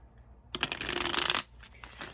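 A deck of cards is shuffled once in a quick riffle, a crisp burst of flapping lasting about a second, followed by quiet.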